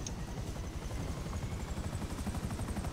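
Helicopter in GTA Online, a steady pulsing rotor chop with a dense low rumble and engine whine running evenly and loudly throughout.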